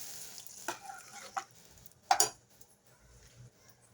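Tempering stirred into sambar in a pot, giving a few short clatters and bursts of sizzle with quiet gaps between them.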